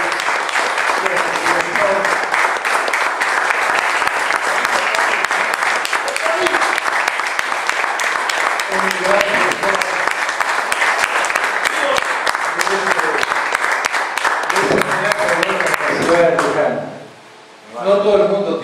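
Sustained audience applause fills a hall during a talk about Güemes, loud and dense for about sixteen seconds before fading, then a brief resurgence at the end.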